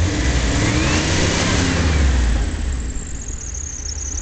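A Jeep's remanufactured crate engine with multi-port fuel injection revs up loudly, climbs to a peak around midway, then settles toward a lower rumble, close and without talk.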